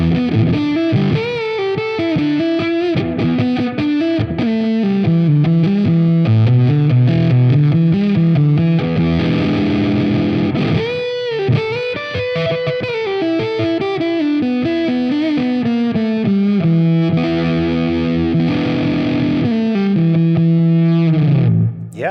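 Electric guitar through a Warm Audio Foxy Tone Box octave fuzz pedal, playing a continuous, dense, distorted lead line with sliding, woolly notes that sustain and bend, loud and unbroken throughout.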